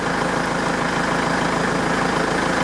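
A car engine idles at a steady, unbroken drone close by, its low, even rumble holding constant with no voices.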